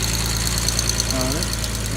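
A 1963 Jaguar E-Type fixed-head coupe engine idles on choke with a steady low, throbbing hum. A voice speaks briefly over the engine.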